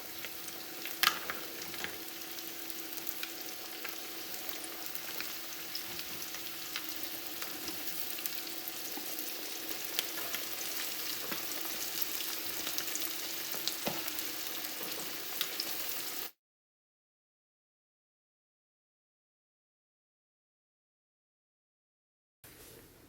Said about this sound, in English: the sizzle from the chicken